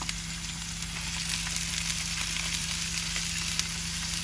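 Potatoes fry in a pan for a Bangladeshi breakfast bhaji, giving a continuous close sizzle with crackling pops over a low steady hum and no voices.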